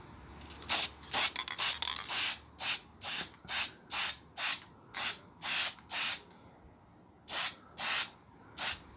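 Short bursts of spray paint apply a final coat to a small garden spade, about a dozen evenly spaced hisses of roughly half a second each, close and clear with brief pauses between them.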